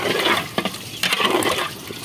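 Water splashes and gurgles as it is poured into a pot of chickpea lentils and beef head meat, with a few clinks and bursts of splashing.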